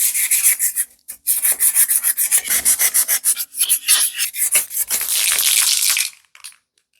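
Steady, loud abrasive rubbing of 240-grit sandpaper scuffing a mountain bike frame in quick back-and-forth strokes for about six seconds, then stopping.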